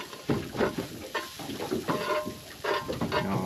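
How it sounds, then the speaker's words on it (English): Butter sizzles and crackles in a frying pan on a boat, a soft, close, irregular frying hiss with light stirring scrapes, fairly quiet. "so we're going to chuck some butter in here"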